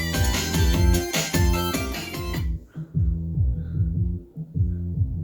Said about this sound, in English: So here's how the bass sounds again.